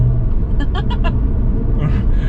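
A 2009 BMW 135i with manual gearbox cruising in fourth gear gives a steady, loud low engine drone and road rumble throughout. A brief voice and a few short sounds come through over the hum.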